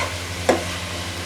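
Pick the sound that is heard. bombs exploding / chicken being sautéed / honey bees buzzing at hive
chicken being sautéed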